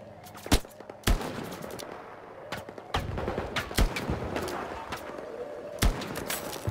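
Gunfire in a shooter video game: sharp, loud single shots scattered irregularly across a few seconds, some close together, over a low rumbling background, with no talking.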